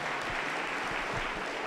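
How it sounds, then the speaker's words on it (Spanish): A Pentecostal church congregation in Huancayo bursts into brief, dense applause, a loud wash of many hands clapping together with no voices over it. "Fuerte aplauso, contento para Jesús."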